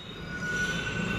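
Kanpur Metro train running along an elevated track, a close steady rumble with a sustained high wheel squeal, no voices.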